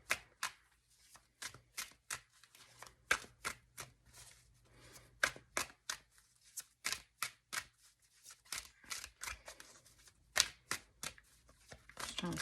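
Tarot cards being shuffled, a long run of crisp riffling bursts and flicks at an uneven rhythm, close and clear with no talk over them.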